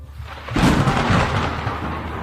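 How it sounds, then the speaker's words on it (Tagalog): Heavy rain pours as a loud thunder crash breaks about half a second in, then rolls on as a sustained, close rumble mixed with the downpour to the end, with no voices. "saktong bumuhos ang malakas na ulan na parang nakikiramay sa sitwasyon naming magkapatid ngayon"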